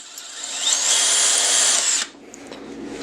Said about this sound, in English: we'll drill out these sway bar link bushings here with a 1/2 inch drill bit